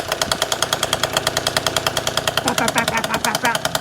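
A Vento motorbike engine with swapped street exhaust pipes idles close up in a fast, loud, even staccato of popping pulses, and a voice speaks briefly over it near the end.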